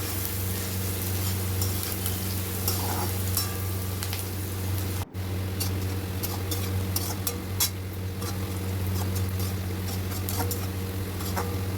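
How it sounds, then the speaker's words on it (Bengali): Chopped onions frying in oil with a pinch of salt for a mutton red curry, a steady soft sizzle with faint crackles running throughout, heard alone over a constant low hum. "পেঁয়াজটা হালকা ব্রাউন করে আমি ভাজবো।"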